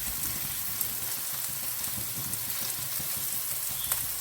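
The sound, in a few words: mustard seeds spluttering in hot oil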